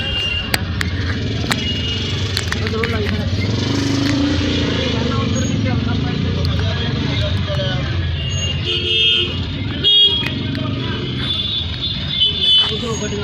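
Jammed city traffic surrounds an auto rickshaw in India, with engines rumbling and several short horn toots nearby while people talk over the noise.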